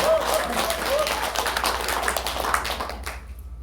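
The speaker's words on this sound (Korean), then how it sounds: "박수 한번 주세요." Seminar audience at a company presentation breaks into brief, dense clapping that fills the room before tapering off abruptly near the end.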